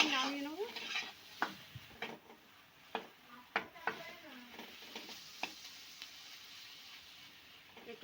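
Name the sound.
stir-frying filling for potol dolma in a pan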